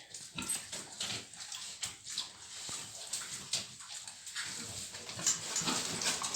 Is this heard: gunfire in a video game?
no